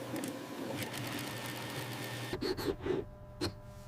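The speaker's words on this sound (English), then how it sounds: "Rapid stitching creates perfect, even seams, ensuring robust wallet construction." Sewing machine stitching leather wallet seams, a fast even mechanical whir running steadily, then a few short bursts and pauses near the end, fairly quiet with no voices.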